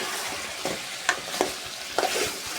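Chicken fries in a pan with whole spices, a continuous sizzle broken by a few sharper stirring scrapes and pops, with no talking.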